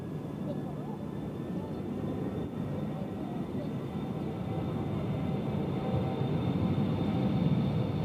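A plane taking off at Cincinnati International Airport (CVG), heard as a steady, broad jet roar from some distance that swells gradually toward the end.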